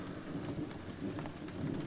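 Steady rain falls during a thunderstorm with a low, continuous rumble of thunder underneath, a broad hissing wash with a few faint crackles, heard at a distance and fairly quiet with no voices.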